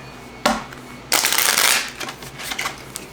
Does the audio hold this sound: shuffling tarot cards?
yes